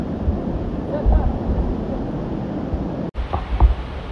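Waterfall water at Devkund in the Sahyadri hills rushes in a continuous, even roar that fills the clip, with a short dropout and faint handling thumps near the end.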